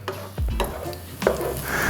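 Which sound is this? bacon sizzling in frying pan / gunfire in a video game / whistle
bacon sizzling in frying pan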